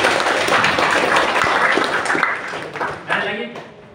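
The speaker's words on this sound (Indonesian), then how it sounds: "Kasih tepuk tangan dari sini" A room of university students applauds during a lecture session, a dense, even patter of many hands clapping that fades out over a few seconds, with a voice talking over it.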